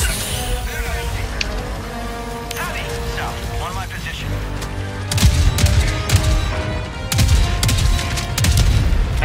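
Heavy rapid autocannon fire in a video game booms and cracks in bursts, growing louder in the second half, with a voice speaking over the gunfire.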